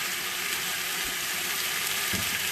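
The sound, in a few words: oxtails browning in olive oil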